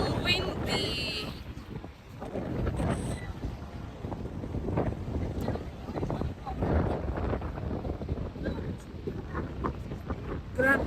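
Strong wind buffets the microphone at Niagara Falls on the USA side, a continuous loud rushing roar with gusty swells, while people talk over it.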